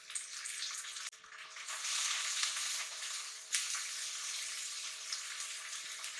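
Blended onion hitting a hot pan with curry, a steady hiss of frying that carries on after a brief scrape, faint and close, with no voices.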